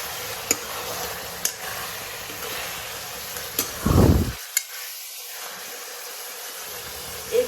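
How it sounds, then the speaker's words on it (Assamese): Chicken pieces frying in a pan for chicken biryani give a steady sizzle with a few sharp ticks and pops, a brief louder burst of searing near the middle, then a quieter hiss with faint stirring. "এপিনে আমি মাংস ভাজি আছোঁ"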